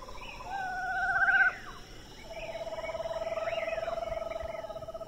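A screech owl gives descending whinny calls, followed by a long, steady trilled note, fairly close against a quiet background.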